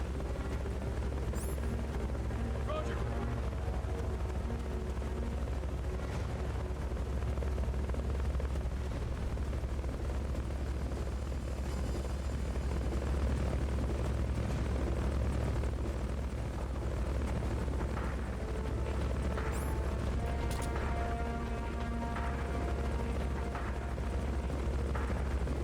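Helicopter rotor drone from the Metal Gear Solid: Peace Walker video game, a steady low rumble that holds for the whole stretch under scattered in-game effects.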